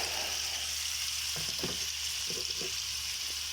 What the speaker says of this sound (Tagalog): Magisa-gisa usa taog. Kining ahos ug bombay na.